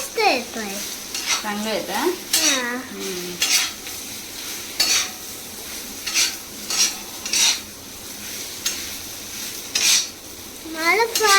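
Bhakri being stir-fried in a pan, with repeated scraping and clinking strokes of a utensil against the metal over a soft sizzle, and a few high whistling tones near the start and end.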